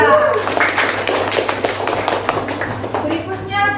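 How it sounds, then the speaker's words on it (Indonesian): Classroom applause for a student group, steady clapping from many hands running the whole time, with some voices mixed in. "beri aplaus untuk kelompok 3"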